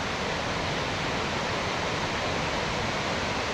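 The West Fork Wallowa River rushes below a trail viewpoint, a steady, dense roar of flowing water with no breaks, heard alone throughout.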